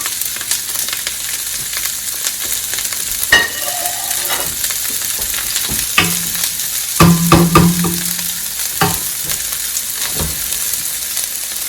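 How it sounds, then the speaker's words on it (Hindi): Colourful vegetables sautéing in a pan over high heat give a steady close sizzle with scattered stirring knocks and scrapes and a short clatter midway, with no talking. "तो हमने हल्का सा इनको साथे करना है"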